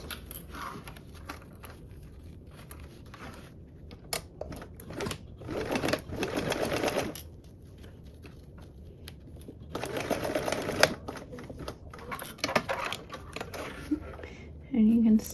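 A sewing machine stitches a 1/4-inch seam allowance on fabric ends pinned right sides together, with short runs of rapid close whirring and pauses where a voice talks.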